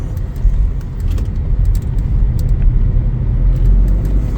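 A Chevrolet Trax Activ rolls along on a test drive, heard from inside as a steady low road rumble and engine hum with faint rattles, no talking.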